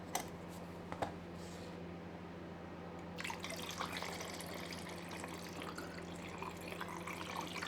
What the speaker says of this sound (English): Now my developer is ready, and I'm going to pour it into my developing tank,